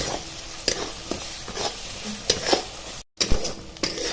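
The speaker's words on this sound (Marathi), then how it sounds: "अजून एक दोन मिनिटं तरी परतवायला लागेल" Ground masala paste for Pandharpur-style bazar amti is stirred and sautéed in oil in a pan, giving a soft steady sizzle broken by intermittent scraping strokes of a spoon against the metal. No one speaks.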